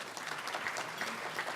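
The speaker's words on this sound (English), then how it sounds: "So let's give her another round of applause," Audience applause at a Washington, D.C. celebration honoring centenarians, a steady dense patter of clapping from a crowd filling the whole moment.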